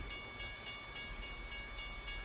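A long freight train in American Truck Simulator rolls past at a distance, a faint steady rumble with soft, regular clicks from the wheels.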